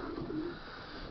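Yearling racing pigeons coo in a crowded one-loft, with a low, steady, continuous murmur close by and no talk over it.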